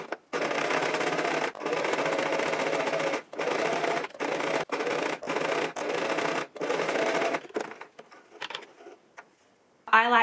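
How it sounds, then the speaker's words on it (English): A sewing machine stitching a fitted cotton face mask along a curved seam, with a steady whirring motor run in bursts and short pauses between them, close and fairly loud, no talk. "So what we're going to do now is sew along the curve, and we're also going to sew along the curve of the pocket."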